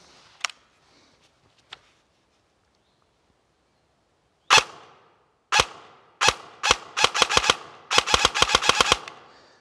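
An ICS ARK airsoft rifle fires sharp, close clicking shots outdoors, first single isolated shots, then quick pairs and rapid bursts toward the end, with near silence between.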